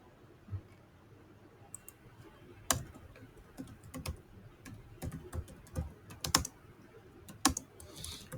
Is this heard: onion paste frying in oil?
no